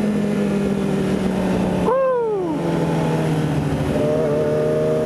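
A motorcycle rides at night with a steady engine drone throughout, rising into a rev with a gear shift about halfway before settling back to a constant cruising hum.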